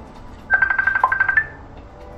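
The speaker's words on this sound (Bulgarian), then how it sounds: "Обаче не мога да затворя, защото звъни на екрана." A mobile phone ringtone chirps a quick run of bright repeated electronic beeps for about a second, clear and moderately loud, then stops.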